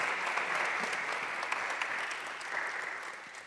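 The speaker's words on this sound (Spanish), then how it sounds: "Un aplauso para el señor Catena, por favor" Audience applause for a speaker at a congress on legal protection of older and disabled people, a steady dense clapping from a seated crowd throughout, even and fairly close.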